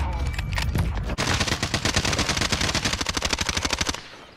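Rapid gunfire in an online shooter match, a dense automatic burst of evenly spaced shots that runs loud and close for about three seconds before it cuts off, with heavier shots and game noise leading in.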